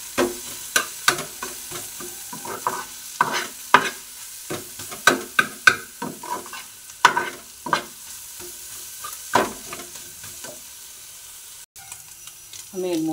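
An egg is fried and stirred in a pan, with crisp clinking spatula strokes over a soft sizzle, close and irregular, then a brief quieter pause near the end.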